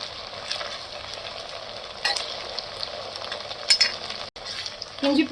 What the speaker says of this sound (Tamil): இஞ்சி பூண்டு பேஸ்ட்டு பச்சை வாசனை போகிற வரைக்கும் நல்லா வதக்கிக்கோங்க